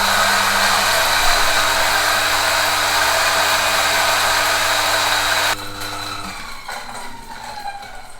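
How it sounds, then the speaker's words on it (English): A Ceado E37SD coffee grinder grinds coffee beans into a grind cup, a loud steady whirring motor that cuts off abruptly near the end, leaving a fading spin-down and faint rattle. "We'll add in our coffee beans and we'll turn on from the top."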